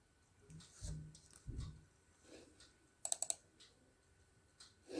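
Typing on a computer keyboard while entering a spreadsheet formula, with a few scattered soft keystrokes and a quick burst of three or four sharp clicks near the middle, fairly close and quiet.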